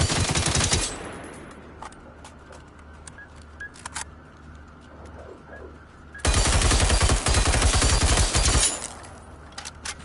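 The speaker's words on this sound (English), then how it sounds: "Instead of rocketing, I'm just gonna shoot it." Rapid automatic gunfire from the video game Generation Zero, two loud sustained bursts of fast, evenly spaced shots separated by a quieter stretch of scattered game sounds.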